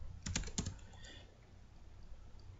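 Computer keyboard typing up close: a quick burst of a few sharp key clicks, then quiet room tone.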